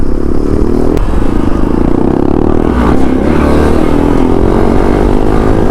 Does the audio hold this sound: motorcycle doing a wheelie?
yes